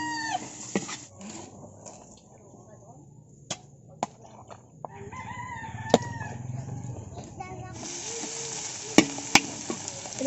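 Ginger and onion sautéing in a hot pan for a Visayan beef dish, a soft steady sizzle building from the middle onward with a few sharp utensil clicks and knocks and bits of speech over it.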